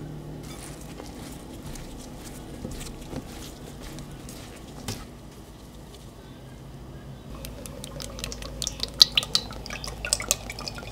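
String beans coated in breading being dipped into water for a double coating, with soft drips and watery pattering that grow busier toward the end, no talking.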